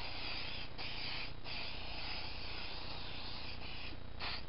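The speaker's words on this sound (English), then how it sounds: "I'm going to spray into one at a time to be cautious" Krylon spray paint hisses steadily through a stencil onto knit fabric, a loud continuous spray with brief pauses between bursts.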